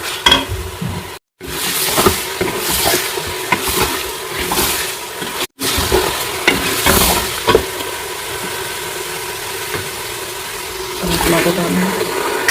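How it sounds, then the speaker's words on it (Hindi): Meat pieces stir-fried in a pan with salt, a steady broadband sizzle with stirring scrapes running throughout, briefly cut out twice, with a voice speaking over it. "इसी तरह से गोश्त को भूनेंगे और बोटियाँ लजीज बनेंगी"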